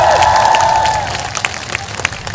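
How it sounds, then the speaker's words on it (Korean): A crowd at an outdoor presidential campaign rally in Uijeongbu claps and cheers, with a loud sustained tone, likely amplified music, at first, then fading into scattered, sharp claps. "다시 한 번 더 큰 박수 부탁드립니다."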